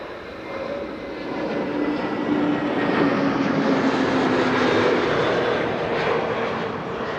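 Delta Airlines wide-body airliner taking off from runway 06 at Amsterdam Schiphol, a steady, loud jet engine roar that swells and holds, heard from a distance with no talking.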